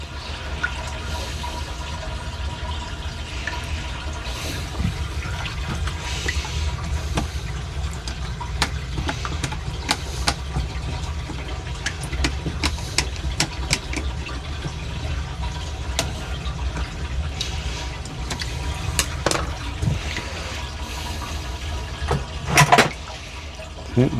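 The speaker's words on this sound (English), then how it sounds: "Like everything's definitely draining good" Water draining steadily down a laundry sink clogged with kitchen grease, a continuous close gurgling wash with scattered drips and splashes, no talk.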